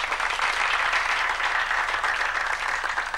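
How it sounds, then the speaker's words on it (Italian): A crowd's sustained applause rolls on evenly and fairly loudly, a dense wash of many hands clapping with no pauses. "Facciamo loro un bel applauso."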